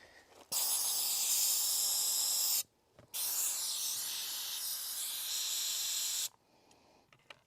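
Air hisses from a Woolwax undercoating spray gun nozzle with the brass nozzle screwed closed while treating a trailer frame, in two close, loud bursts of about two and three seconds separated by a short pause.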